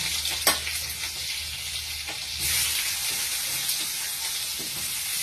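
Chopped onion hits hot oil in a wok with a bright, crackling sizzle that swells midway and keeps frying steadily, with occasional clinks of a stirring utensil.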